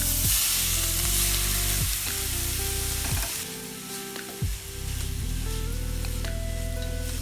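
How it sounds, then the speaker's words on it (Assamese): Grated carrots fry in melted ghee in a pan over a low flame for carrot halwa, giving a steady close sizzle with soft stirring scrapes that fills the whole stretch. "এই গাজৰ ভালকৈ ভাজি কৰিম।"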